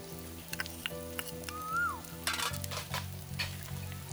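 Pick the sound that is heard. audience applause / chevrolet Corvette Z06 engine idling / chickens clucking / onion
onion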